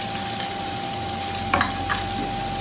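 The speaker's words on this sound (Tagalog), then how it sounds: "bibisa na po natin yung bawang" Garlic sautéing in a pan while cooking stir-fried bean sprouts with tofu, a steady close sizzle broken by a couple of brief stirring scrapes.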